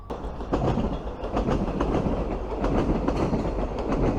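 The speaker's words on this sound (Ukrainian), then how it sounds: "Цікаве видовище, коли одразу на тебе їде два поїзди метрополітену." Two metro trains approach at once near Darnytsia station in Kyiv, beside a new overpass under construction, producing a continuous close rumble with rhythmic wheel clatter and no speech.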